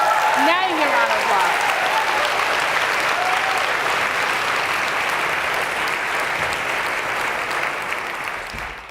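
A large summit audience gives sustained, full applause that holds steady before tapering slightly at the end, with a brief voice rising over it at the start.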